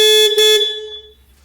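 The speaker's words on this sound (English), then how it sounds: "Operate the backup alarm and front horn." Horn on a Bobcat loader, sounded during a daily maintenance check: one loud, close, steady tonal blast lasting about a second, then fading into a quiet low hum.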